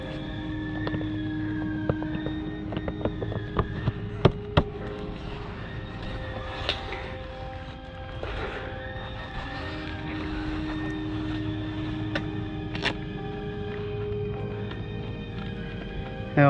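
A Husqvarna 300 TEi two-stroke enduro motorcycle engine idling on a remapped ECU, a steady low droning hum with faint ticks and small mechanical clicks throughout, at moderate distance.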